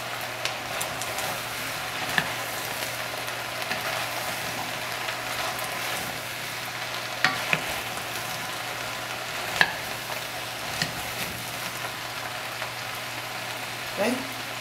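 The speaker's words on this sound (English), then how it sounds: "I'm going to add the butternut squash. Okay. Mix it in a little bit." Butternut squash being stirred into a pot of cooked-down onions and apples, a steady low sizzle with scattered scraping and clinking spoon strokes, close and moderate in level, no voices.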